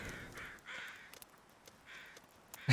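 Birds calling in the wilderness of the survival video game The Long Dark, several harsh cawing calls spaced out over a quiet background, moderately close.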